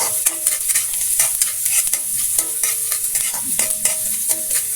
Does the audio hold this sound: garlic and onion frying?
yes